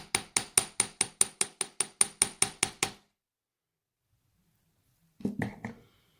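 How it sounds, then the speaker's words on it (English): Steady rapid hammer strikes on metal wire for a wire-wrapped pendant, about a dozen evenly spaced blows, then silence, followed by a short quicker burst of taps. "I want to do a little bit of hammering to the end of this piece right here."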